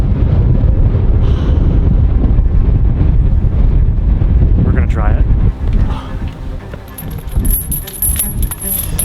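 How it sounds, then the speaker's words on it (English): Strong wind batters the microphone during an outdoor climb, making a loud, close, continuous low rumble with gusty surges that ease slightly toward the end. A voice may be faintly present underneath. "The wind is gnarly."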